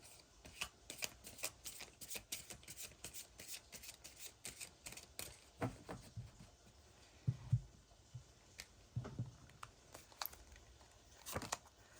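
Tarot cards shuffled by hand in a quiet room, a run of soft riffling and flicking bursts with a few louder slaps and taps, close and unaccompanied by talk.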